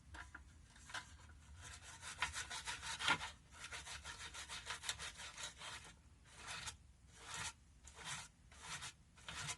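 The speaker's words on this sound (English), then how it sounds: "Let's give this a scrub" Brush scrubbing a grimy, greasy plate from a vintage Husky H5125 ratchet, a steady run of close, loud back-and-forth scratchy strokes with short pauses between bursts near the end.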